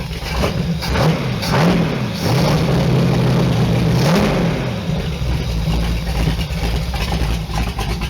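Allmand SuperNova race boat engine runs close and loud, a lumpy low idle broken by a few throttle blips and rising revs before settling back to a rough steady idle.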